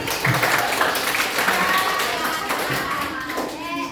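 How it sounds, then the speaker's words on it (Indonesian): Classroom applause during a school group competition, with dense clapping from many hands alongside children's voices and taps, moderately loud and continuous throughout. "Tepuk tangan dulu untuk lomba ini."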